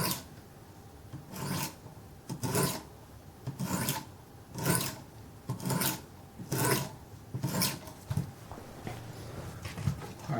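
A knife blade is drawn across the stones of a Wicked Edge guided sharpener set at 16 degrees per side, giving about ten evenly spaced raspy strokes, each a short scraping burst, close and clear with no talking.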